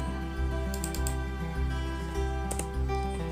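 Computer keyboard keys tapped while copying cells in an Excel spreadsheet, a steady run of light clicks over a constant background hum, with a few sharper clustered taps near the end.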